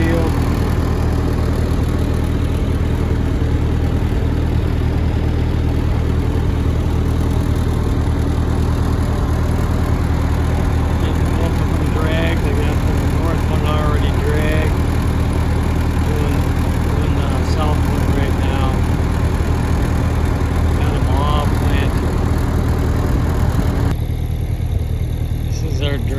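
A loud tractor engine drones steadily throughout at close range while dragging a field with a 4-foot drag hooked to a cultivator, with a person talking over the continuous rumble.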